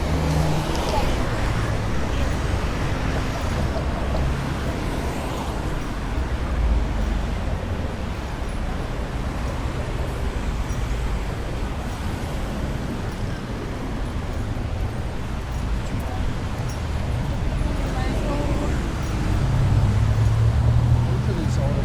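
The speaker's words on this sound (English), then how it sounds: "Still a lot of cars coming through the city in this street." Cars and other traffic roll along a busy city street, Bathurst Street, in a constant, dense roadway rumble with passing vehicles that stays steady throughout.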